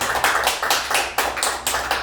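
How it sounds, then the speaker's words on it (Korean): Applause from a seated audience at a lecture gathering, a steady wash of many hands clapping in uneven bursts, fairly loud and close, with no talking over it. "박수 한번 더 주십시오"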